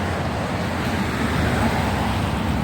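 Continuous roadway traffic with many cars passing along a street, a dense steady rumble close by, heard while walking beside the road with no voice in the clip.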